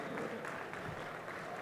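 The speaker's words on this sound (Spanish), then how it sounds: "Aplauso a este penúltimo equipo." Audience at a community summit applauding a team, brief steady crowd clapping, fairly faint and continuous.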